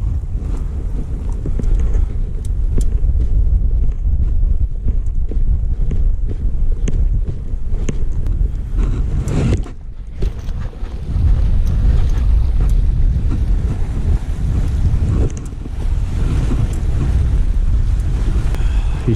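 A police boat motor drones loudly on the water with strong wind buffeting the microphone, briefly dipping before the engine roar continues steadily.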